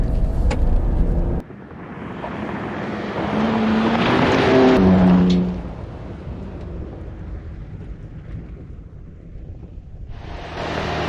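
A 2025 Ram RHO pickup truck drives off-road through sand, its engine rumbling loudly under heavy wind buffeting on the microphone. The noise swells into a roaring surge midway before easing to a steadier drone.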